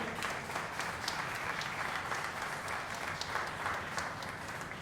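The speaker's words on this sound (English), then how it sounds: "Give a round of applause." Audience at an arts event applauds student films with steady, dense clapping from a sizeable crowd, continuous and even throughout.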